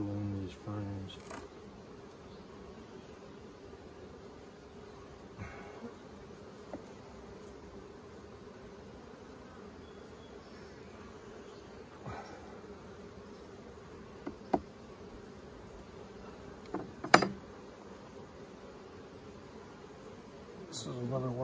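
Honey bees buzzing around an emergency-split beehive during an inspection while frames sealed with propolis are pried loose; a steady low hum runs throughout, with a few sharp clicks and knocks, and someone speaks at moments.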